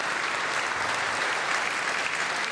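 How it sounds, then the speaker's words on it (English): A snooker crowd at the UK Championship final applauds steadily, an even, dense spatter of many hands clapping without pause, with no voices over it. "Applause from the crowd"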